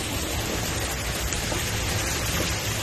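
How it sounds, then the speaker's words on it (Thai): Steady rainfall hisses evenly and densely throughout, a constant close wash of drops with no voices or pauses. "ฝนแล้วนะคะ"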